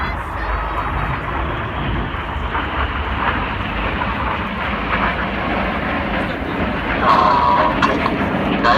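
An RAF Tornado bomber jet passes at an air display over Ayr beach, a loud, continuous broadband jet roar that swells slightly near the end.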